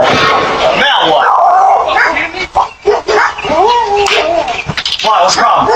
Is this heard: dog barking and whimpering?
yes